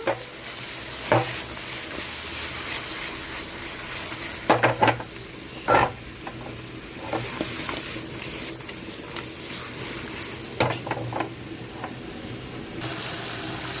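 Pulasa fish pieces frying in a pan for curry, a faint continuous sizzle under occasional clinks and scrapes of a utensil against the pan, close and fairly quiet.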